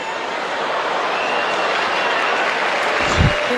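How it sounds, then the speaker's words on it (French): A tennis crowd at a 2006 youth event applauds a line judge's call, a broad, even wash of clapping from a large audience that holds steady from start to finish. "On applaudit, je pense, le juge des lignes par rapport à son annonce pertinente, surtout précise."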